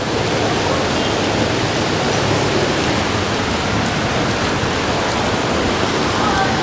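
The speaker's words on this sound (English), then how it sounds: "look at it bucketing down" Heavy rain bucketing down on a Sydney city street, a dense, steady hiss of water pouring and splashing across the pavement, loud and unbroken throughout.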